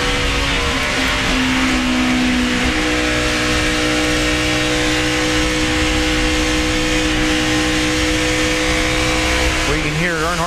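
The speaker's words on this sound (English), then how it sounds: "feathering that throttle, getting up off the corner here, trying to be careful around these guys" NASCAR stock car V8 engines roar continuously at a race, one car's throttle being feathered off a corner, with steady pitch shifts and a rising rev near the end, under race commentary.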